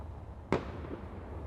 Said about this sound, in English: Oh, fireworks. That freaked me out for a second.